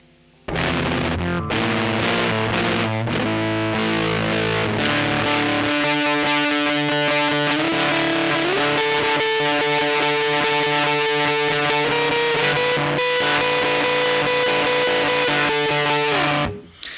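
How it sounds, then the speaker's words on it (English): A loud electric guitar through a G-fuzz pedal plays sustained chords and notes for the whole stretch, saturated and buzzing, with no voices. "The G-fuzz is quite a nice little fuzz sound."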